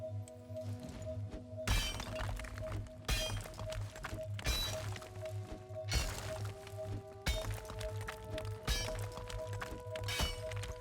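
Digging down toward silver ore in the video game Valheim: seven heavy, cracking strikes land at an even pace about a second apart, each loud and close over a steady low game drone.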